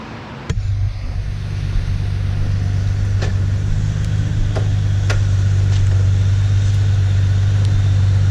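Honda Goldwing motorcycle engine starting with a sharp onset and then pulling away under throttle, a deep steady rumble that builds slightly, heard close and alone on a damp day.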